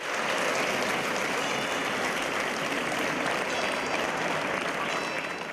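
Long, dense applause from marchers gathered in Piazza dei Signori at the end of a march in the Veneto, a continuous even roar of many hands with faint voices mixed in.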